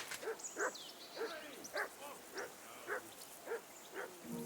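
A dog in the medieval game Kingdom Come Deliverance 2 gives a series of about eight short, evenly spaced barks or yelps, fairly faint against a quiet background, with no talking.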